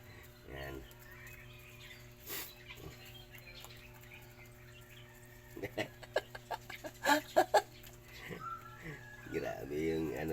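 Backyard chickens being hand-fed give a quick run of short clucks and pecking sounds at close range. Quiet stretches come before it and a voice speaks softly around it.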